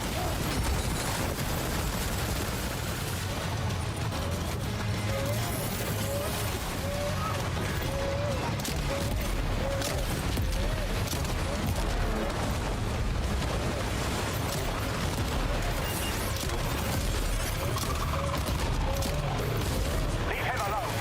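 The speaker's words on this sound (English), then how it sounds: "Opening fire now." Continuous dense video game gunfire and mechanical clatter in a naval battle setting, loud and unbroken throughout, with shouted voices mixed into the din.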